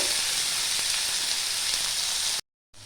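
Chopped onion frying in a pan with bay leaf and five-spice for a potato and fish-egg curry, a steady loud sizzle that cuts out abruptly near the end, then briefly returns.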